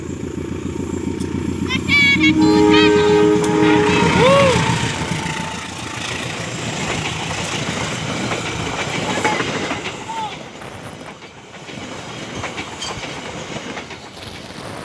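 A train hauled by a CC203 locomotive passes, opening with a loud, sustained multi-tone horn blast, then a steady rumble and clatter of wheels on rail fading slightly over time, with a voice speaking at points.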